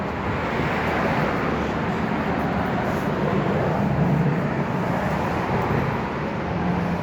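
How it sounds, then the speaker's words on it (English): Steady roadway traffic on a Philadelphia street, cars rolling past with a continuous low rumble that swells slightly midway, loud and close throughout with no voices. "Now cars are coming."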